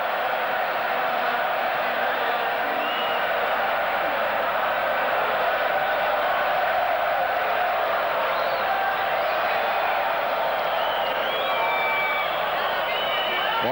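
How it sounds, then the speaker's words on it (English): A Spanish crowd cheers continuously through a futsal World Cup semifinal against Ukraine, a loud, dense roar of voices and whoops that swells after a quiet start and holds steady. "The Spanish crowd loving that."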